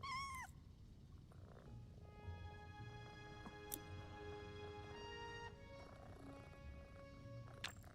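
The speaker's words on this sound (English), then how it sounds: "I hear a cat. You guys hear it too, right?" A cat gives one short meow at the start, loud and close. Faint tones, chimes and gaming sounds from PowerWash Simulator 2 follow with no talking.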